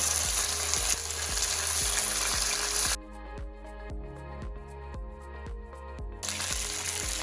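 Steady, loud sizzling of chicken browning in a frying pan for Jamaican brown stew chicken, continuous throughout, with a faint rhythmic beat underneath.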